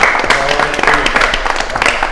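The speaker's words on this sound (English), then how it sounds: "So, can I get an applause?" Audience applause, brisk crowd clapping filling the short clip at a loud, even level with voices mixed in.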